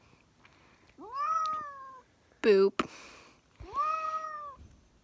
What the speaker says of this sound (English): never mess with an angry cat